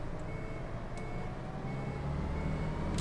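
A Volvo bus axle rattles as the vehicle pulls away in the OMSI 2 driving simulator, a faint steady rumble with engine drone, repeated reversing-style beeps and a couple of sharp ticks, no voices.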